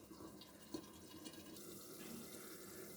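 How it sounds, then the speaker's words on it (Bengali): Water pours steadily into a cooking pot of bottle gourd fritter curry, a continuous close splashing and trickling stream that runs unbroken throughout. "তারপরে আর একটু জল দেব।"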